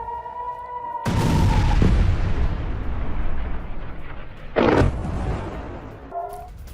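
A sudden, loud explosion near the Strait of Hormuz bursts in after a tonal hum, followed by a long rumbling roar and a second sharp blast near the end.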